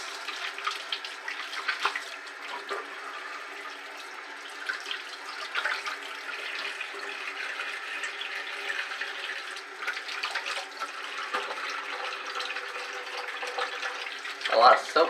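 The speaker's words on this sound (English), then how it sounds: "So let me rinse that off here." Cold tap water runs into a sink while a shaving brush is rinsed, a steady hissing splash with occasional sloshes and a clunk near the end.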